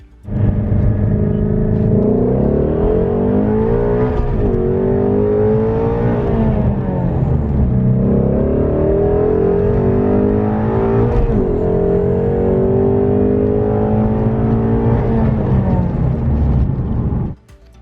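A loud Ford Shelby GT350 V8 engine with resonator-delete X-pipe exhaust roars and revs through repeated rising sweeps, pulling hard in several surges without a break, heard up close.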